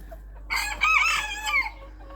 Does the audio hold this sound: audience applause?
no